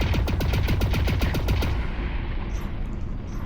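Rapid automatic gunfire from a firearm in Lone Echo 2, a zero-gravity setting. Around a dozen loud, close shots come in a steady fast rhythm for nearly two seconds, then stop, leaving a low rumbling tail.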